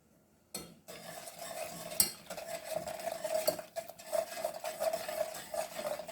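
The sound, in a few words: stirring sugar mixture in pot on low heat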